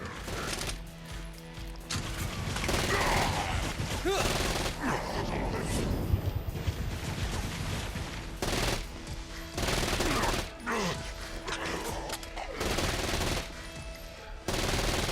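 Rapid bursts of gunfire from a battle in the video game Saints Row: Gat out of Hell, dense and sustained over a loud, busy game soundscape, with brief lulls between volleys.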